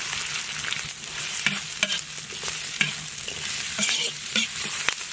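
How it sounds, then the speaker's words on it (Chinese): Scallion, ginger, garlic, dried chili and Sichuan pepper stir-fried in hot oil in a wok, with a steady close sizzle broken by sharp scrapes and clacks of the spatula against the pan. "锅里倒点油，油后下入葱姜蒜、干辣椒、花椒"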